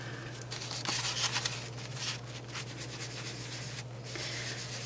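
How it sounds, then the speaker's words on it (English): A paintbrush scrubbing blue acrylic paint onto a canvas, giving close, soft scratchy rubbing strokes in uneven bursts over a constant low hum. "And I'm just kind of scrubbing it in so there's not a huge amount of paint in there."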